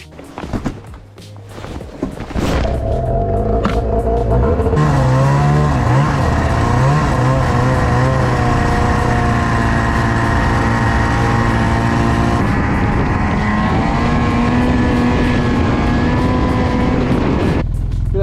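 A ZR600 snowmobile engine revs up and holds a loud, steady, rising drone close by for most of the ride, with pitch shifting as the throttle changes and no one talking over it.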